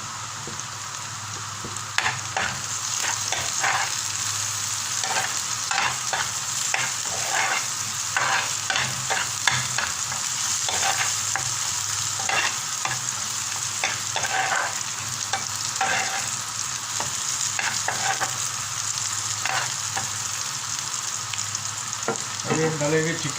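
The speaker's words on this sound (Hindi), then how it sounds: "अभी डालेंगे चिकन डालेंगे। थोड़ा प्याज के साथ भूनेंगे" Chicken with green chili and onion fries in a pan, a steady loud sizzle broken by frequent scraping strokes of a spoon stirring throughout.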